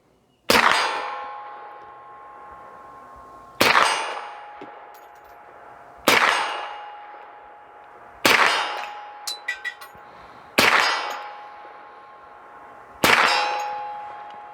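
Six offhand shots from a Hi-Point 1095 rifle fired at a target 50 yards away, each a sharp crack with a ringing metallic tail, spaced about two to three seconds apart, close and loud, with no talking.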